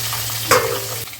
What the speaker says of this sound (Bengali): আর এই কই মাছ ভাজা হচ্ছে।